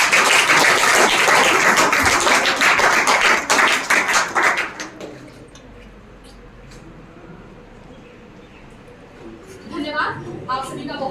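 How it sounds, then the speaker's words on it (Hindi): An audience at an inter-district anti-drug poster making competition applauds the students, loud dense clapping for several seconds that then fades to quiet, with a new burst of clapping near the end. "दोनों के बच्चों के लिए जोरदार तालियां।"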